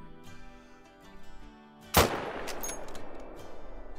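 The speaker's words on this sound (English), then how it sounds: "And you take the Mosin, make a nice shot, and that should take him down." A single Mosin rifle shot in the hunting game Call of the Wild cracks sharply and loudly, trailing a long rolling echo after quiet ambient game sounds.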